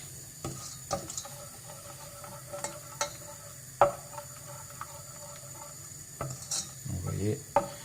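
Sugar cooks into caramel in a saucepan with a soft, faint sizzle and occasional scrapes and clinks of stirring against the pan, quiet and close, with no talking.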